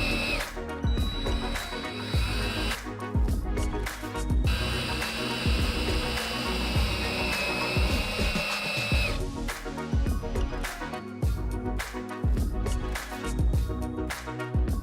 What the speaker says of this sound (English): screwing through the filter box into the bracket